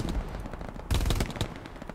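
MG-42 machine gun fire in the WW2 shooter Hell Let Loose, loud rapid bursts close by, with a heavier burst midway among continuous rattling gunfire.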